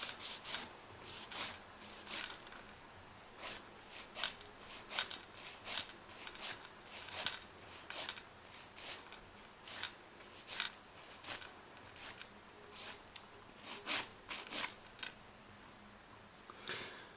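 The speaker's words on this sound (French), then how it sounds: "on va limer dans un seul sens, en arrondi" A nail file rubs a UV gel nail in rhythmic rounded one-direction strokes, close and fairly quiet, each pass a short dry rasp repeated steadily about twice per second.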